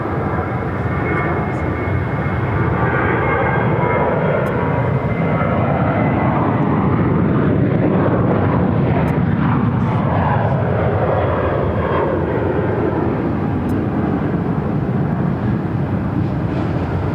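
An airliner takes off from a runway at Phoenix airport, a steady, loud, broad engine roar lasting throughout, with radio voices faintly audible over it.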